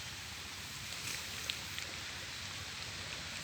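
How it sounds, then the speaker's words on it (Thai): Steady rain hisses softly across the whole stretch over a rice harvest field, with a few faint drips standing out. "ฝนตกเนาะ"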